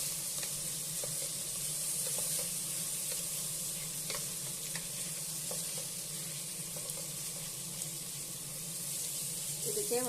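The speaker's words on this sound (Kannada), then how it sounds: "ಈಗ ಇದಕ್ಕೆ ಟಮಾಟನ ಸೇರಿಸ್ಕೊಳ್ಳೋಣ ಈಗ ಇದು ಕೂಡ ಎಣ್ಣೆಯಲ್ಲಿ ಚೆನ್ನಾಗಿ ಫ್ರೈ ಆಗಲಿ" Tomatoes frying in oil for avarekalu pulao, a faint, steady hiss and sizzle in a kitchen pan with light stirring scrapes throughout.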